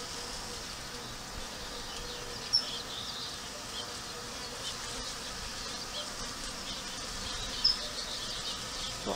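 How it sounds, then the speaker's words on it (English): Bees buzz around a blooming dragon fruit flower outdoors. The buzzing hums steadily and fairly softly, near and drifting, with a couple of faint sharp ticks. "Oh, look at that. I found all my bees."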